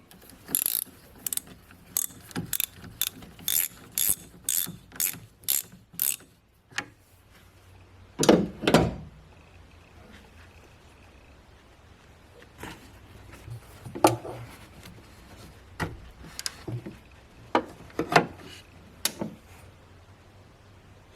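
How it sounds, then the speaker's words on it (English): A 10mm socket on a ratchet takes the negative battery cable off a GMC Sierra, with bursts of rapid, close ratchet clicking, pauses, a clunk, then sparser clicks and handling noise, with no voices. "I'm going to remove the negative battery cable. And that requires a 10mm socket."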